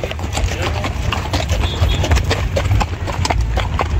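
Horses clip-clop along in a rural ranch cavalcade, many hooves striking in an uneven, overlapping rhythm close by amid steady crowd noise and low rumble.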